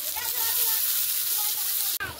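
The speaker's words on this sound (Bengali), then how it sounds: "এদিকে কড়াইতে তেল দিয়ে তেল গরম করে নিয়ে পেঁয়াজ কুচি দিয়ে" Chopped onion sizzling in hot oil in a wok, a steady close hiss of frying throughout that breaks off briefly near the end.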